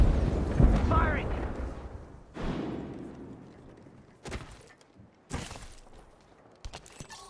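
Gunfire and explosions in the Apex Legends video game: a loud blast at the start fades into rumbling debris, then sharp separate gunshot bursts crack out later, with talk mixed in.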